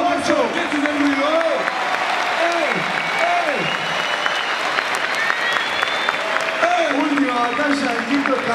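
A crowd at a rap battle final claps and cheers loudly in a dense sustained burst while someone talks and exclaims over it.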